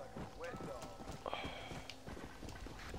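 Horse hooves clip-clop in the Western video game Red Dead Redemption, a quick rhythmic trot close by, partly under a person talking over game sounds.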